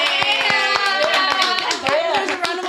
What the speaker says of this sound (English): There's a round of applause for